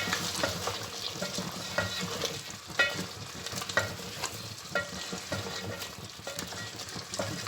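Meat being stir-fried in ghee for a potato and meat curry (aloo gosht), a steady close sizzle with repeated scraping and stirring strokes throughout, no voices.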